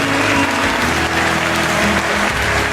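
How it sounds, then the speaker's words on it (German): A large concert audience claps continuously, a loud dense wash of applause that holds steady throughout. "Ein riesen Applaus für fantastisch!"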